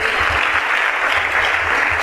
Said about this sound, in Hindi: एक उनके लिए जोरदार ताली दीजिए।